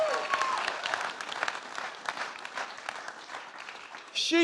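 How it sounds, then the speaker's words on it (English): A church congregation claps for a woman standing before them, steady full applause mixed with voices and cheers, with a louder burst at the very end. "Stand up, Bree, so we can clap you properly."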